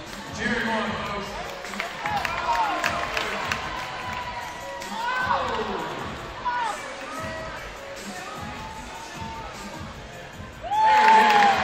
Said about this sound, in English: Cheer him on, folks.